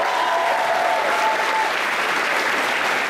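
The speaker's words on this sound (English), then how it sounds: "And a round of applause for all these guys" Audience applause at an anime convention opening ceremony, a brief dense burst of many people clapping at steady volume, with a faint tonal hum beneath early on.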